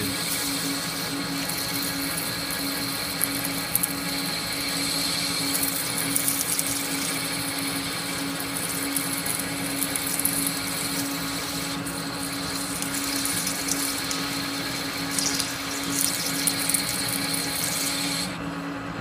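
Machine tool cutting aluminum with lubrication, a steady loud mechanical hum with a sustained tonal whine and small rattles and clicks throughout, no voices.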